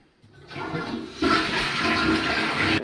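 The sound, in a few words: toilet flushing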